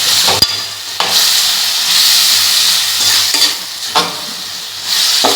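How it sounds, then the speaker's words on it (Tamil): Tomatoes sauté over medium heat in a pan, giving a loud, steady sizzle and frying hiss, with occasional stirring scrapes and spoon knocks, and no talking. "இதெல்லாம் மீடியமில் வச்சு நல்லா வதக்கி நல்லா வதங்குற வரைக்கும் விடுவாங்க."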